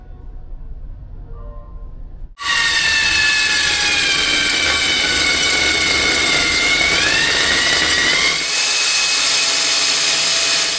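A power drill boring a hole through a wall to install a 2-ton Voltas air conditioner in a gym, starting abruptly after quiet and running as a loud, sustained whine close by.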